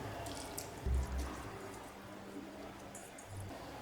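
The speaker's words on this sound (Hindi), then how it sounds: "अब मैं इसमें थोड़ा सा पानी ऐड कर दूंगी" Water pours into a bowl of washed poha, a quiet splashing with a brief louder gush near the start, then a soft trickle. No voices.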